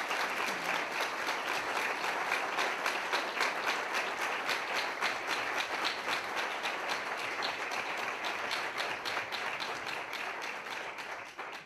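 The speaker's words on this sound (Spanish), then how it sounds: "Pediría un aplauso" An anniversary gathering of a bird conservation society applauds in honour of a late bird ringer, a long, even burst of clapping from a sizeable crowd that holds strong before tapering slightly at the end.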